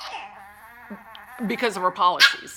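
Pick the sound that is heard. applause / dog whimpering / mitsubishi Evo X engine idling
dog whimpering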